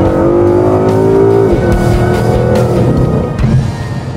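A Ford Mustang GT500 with the Coyote 5.0 V8 engine revs loud and close, holding a high steady note before dropping into a rough, throbbing idle, with no talking over it.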